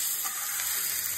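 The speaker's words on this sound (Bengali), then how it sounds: "পেঁয়াজটা ভাজা ভাজা হয়ে গেছে, টমেটো দিয়ে দিচ্ছি" Onion and tomato frying in a pan together, a steady close sizzle with a constant hiss running throughout and no voices.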